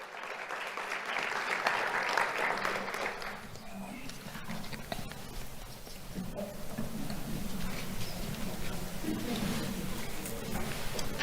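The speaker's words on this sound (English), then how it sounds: "Let's have a round of applause for Noah Holland." Applause for a kindergarten student at a sheriff's office award ceremony, a sustained crowd of clapping hands filling the room, strongest at first and then settling into steady scattered claps with some faint voices.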